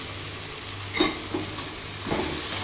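Chili powder frying in oil for an Andhra fish curry, a steady broadband sizzle with a few soft stirring scrapes around the middle and near the end.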